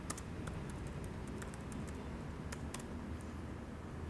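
Keys clatter on a computer keyboard while an Anaconda prompt is being typed into, producing a steady run of light, close taps over a low background hum with no talking.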